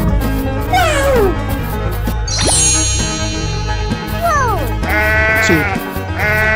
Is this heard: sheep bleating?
yes